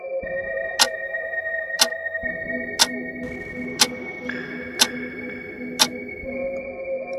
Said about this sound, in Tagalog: biglang tumunog ang lumang orasan na nasa dingding